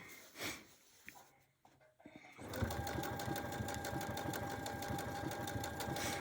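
Sewing machine doing machine quilting with a hand-look quilting stitch: after a few quiet bumps and handling noises, the motor starts and runs in a steady, rapid, close-up needle rhythm.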